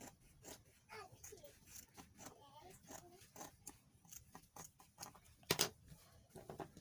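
Scissors cut through gown fabric along a neckline, giving a series of short crisp snips with a louder sharp snip near the end, under quiet background voices.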